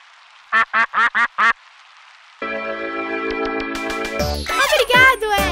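A cartoon duck from Pocoyo quacks four quick times in a row, loud and close, followed by a stretch of cheerful cartoon music.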